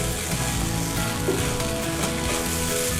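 Kimchi fried rice sizzles steadily in a hot pan as it is stirred and tossed, a dense continuous frying hiss with light scraping, close and even throughout, no voices.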